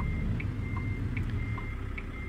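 A truck in American Truck Simulator reverses with steady, evenly spaced electronic beeps, about five of them, moderately loud over a continuous low engine hum.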